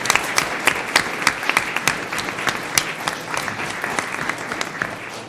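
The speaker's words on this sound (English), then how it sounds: "So let's give them a round of applause." An audience at a school district governing board meeting applauds students and staff, steady room-filling clapping from a modest crowd with individual claps standing out sharply throughout.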